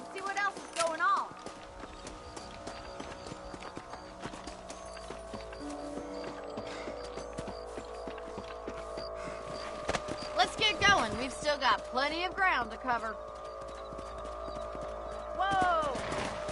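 Horses' hooves clop rhythmically while riding in Red Dead Redemption, a steady plodding under game music and a voice talking, with the hoofbeats growing a little more prominent toward the end.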